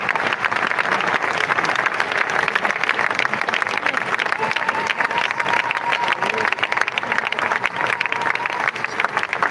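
A church congregation applauds loudly and continuously in praise of the Lord, with dense steady clapping mixed with crowd cheering and voices throughout.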